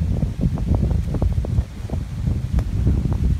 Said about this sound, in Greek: Εάν ακούγομαι, γιατί φυσάει κιόλας.